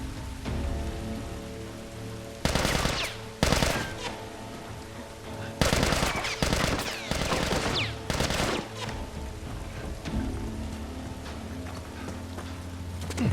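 Bursts of gunfire from The Last of Us, with several loud clusters of rapid shots separated by short pauses over a steady background hum, and no voices.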